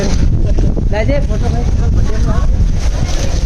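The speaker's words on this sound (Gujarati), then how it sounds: "પવન તો એવો આવે છે કે લાગે એસી કરતા ખતરનાક." Strong wind blows at the hilltop of Pavagadh, roaring steadily and loudly against the microphone the whole time, with brief voices partly buried underneath.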